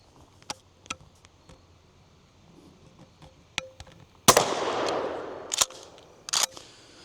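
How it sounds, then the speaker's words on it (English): A Remington 870 shotgun fires once at a steel target outdoors, one loud sharp blast with a long decaying ring, set among scattered fainter distant pops and clicks. "I'm going to try to shoot one of the steel targets with it."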